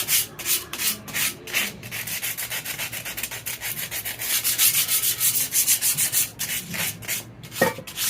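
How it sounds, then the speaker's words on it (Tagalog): Sandpaper, coarse grit around 100, rubbed by hand over a rusty motorcycle exhaust pipe before painting, with steady fast back-and-forth scraping strokes, loud and close, continuing without pause and with no talk. "lihain natin itong mga kalakalawang para pag lilihan natin, mabilis kumikit yung pintura"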